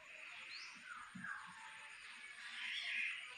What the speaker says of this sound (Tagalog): Marinig mo mga hunin ng ibon